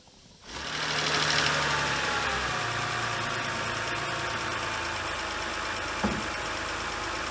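A BMW 528i engine, with antifreeze just topped up, fires up and settles into a steady close idle while warming, with a ticking mechanical rhythm and one brief knock near the end.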